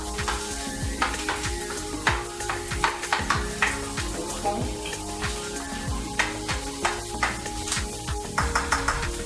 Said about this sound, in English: sizzling sound is a good sign.